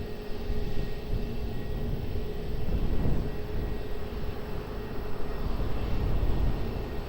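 An airliner on final approach to runway 20 at Lisbon Airport gives a steady, broad jet engine roar, distant and constant, without speech.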